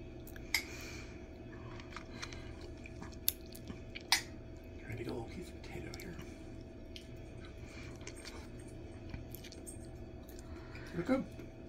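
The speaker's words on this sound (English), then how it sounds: "He is going to taste the Irish pot roast." Someone chews a bite of Irish tavern pot roast with vegetables cooked in a crockpot. Soft, close, wet mouth sounds and faint clicks come in sparse bursts over a quiet background, with a few louder smacks near the end.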